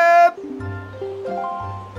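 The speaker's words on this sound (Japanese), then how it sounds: "残念っぽい音楽流れてるわ。" A short, disappointed-sounding musical jingle from a Zelda video game: a bright opening note, then a few descending, melancholy synthesized tones over a low bass line.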